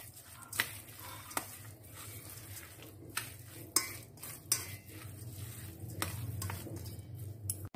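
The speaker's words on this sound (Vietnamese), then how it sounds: "Rồi mình sẽ trộn cái phần thịt này lên cho nó ngấm gia vị ha" Minced pork is stirred together with ground pepper and seasoning in a bowl, a soft steady squishing mix punctuated by several sharp clinks of a utensil against the bowl.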